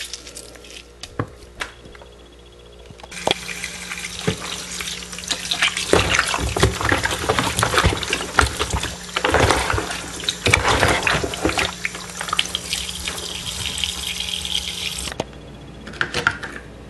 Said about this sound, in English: wash with water to remove any excess dirt or bacteria.